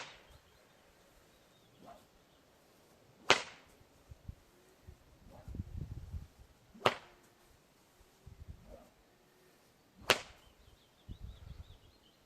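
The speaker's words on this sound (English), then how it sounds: "And I will just do light tosses with the whip." Light tosses of a 12-foot whip give three sharp, distinct cracks spaced a few seconds apart, with soft thumps and rustling between them, fairly near and otherwise quiet.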